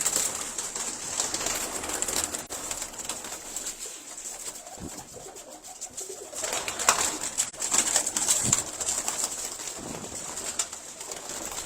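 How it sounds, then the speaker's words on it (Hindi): Pigeons offered for sale coo softly in a loft or market setting, with steady low murmuring and occasional flutters under a constant high hiss, fairly close and continuous throughout. "ये सारे कबूतर फॉर सेल है जी।"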